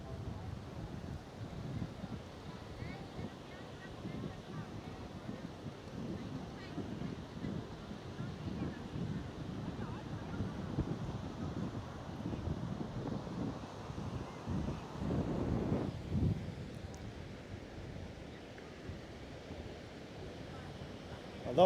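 Wind gusts across the beach at Puntarenas on the Gulf of Nicoya, buffeting the microphone with a continuous rough rumble that surges and eases. Waves are faint in the background.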